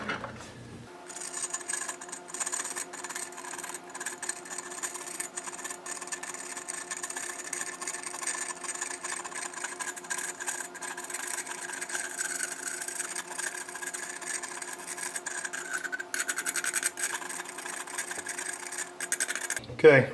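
A vacuum cleaner's brush attachment scrubs against a surface over a steady, droning vacuum motor whine, the rubbing rasp continuing evenly until it stops.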